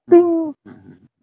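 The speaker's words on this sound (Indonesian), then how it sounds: "Suara burung mangkok." A mangkok bird calls outdoors near a neglected sacred stone, giving one steady, hooting note that lasts about half a second, followed by a softer, rougher burst of sound.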